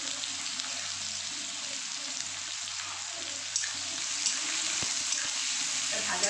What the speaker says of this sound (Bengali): যতক্ষণ না কালারটা চেঞ্জ হচ্ছে ততক্ষণ ভেজে নেবো আমি